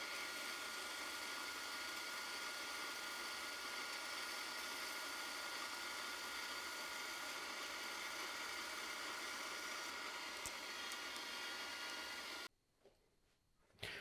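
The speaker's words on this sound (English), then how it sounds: "Then I'll take it to the bandsaw and I will cut right up to the line." Bandsaw cutting a wooden bench leg along a marked line, a steady whining hum with a constant hiss that holds evenly for about twelve seconds before dropping abruptly to quiet.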